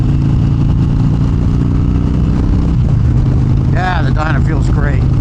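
Motorcycle engine droning loud and steady while riding through the Arizona high desert on a winter day, a constant low rumble with wind noise and a voice speaking over it near the end.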